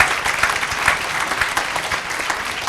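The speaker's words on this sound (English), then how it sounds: "Can we give a round of applause?" Audience applause at a housing organization's award ceremony, a dense burst of clapping from a seated crowd, steady and fairly loud for the whole span.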